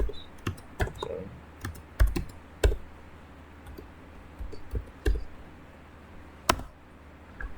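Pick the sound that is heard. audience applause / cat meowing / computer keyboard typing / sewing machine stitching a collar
computer keyboard typing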